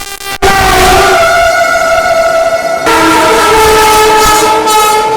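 A Vande Bharat Express overtakes at Tundla with a loud, close, sustained horn blast that shifts tone partway through over the rumble of the train, with no talking.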